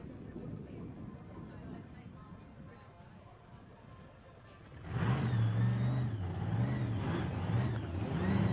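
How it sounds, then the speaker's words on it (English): At a nostalgia drag racing meet in Australia, a big block race car engine bursts into life partway through and settles into a loud, rumbling idle with wavering revs over an earlier low background of crowd and track noise. "you can hear some of these big blocks being started up again"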